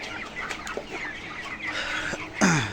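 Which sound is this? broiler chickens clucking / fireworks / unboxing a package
broiler chickens clucking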